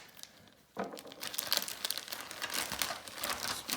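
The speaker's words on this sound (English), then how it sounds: "Just ripping into this thing any way I can." Packaging is ripped and crumpled open to reach a LEGO brick haul: a quiet start, then from under a second in, continuous close crinkling and tearing with no talk.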